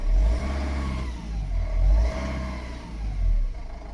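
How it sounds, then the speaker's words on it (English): A van's diesel engine, just fitted with a new injector and new glow plugs, runs with loud, close rumbling that swells and eases in a couple of rev surges. "So yeah, he should fire up."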